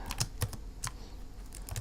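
Keyboard shortcuts are typed on a computer keyboard: a quick irregular run of light plastic key clicks, close and quiet, with no speech.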